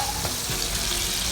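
Pork tongue being stir-fried and browned in a pan with a little oil gives a dense, steady, close sizzle, loud and unbroken throughout the brief moment.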